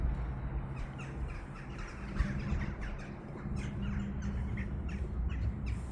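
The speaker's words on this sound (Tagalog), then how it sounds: "Ang daming mga birds nagliliparan." Many crows caw and squawk in a family park in Çorlu, Tekirdağ, in cold weather, with repeated calls spread over a constant outdoor hum and no talking.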